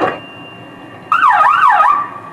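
Car alarm going off, a wavering electronic siren that sweeps up and down for about a second after a softer steady tone, close and loud.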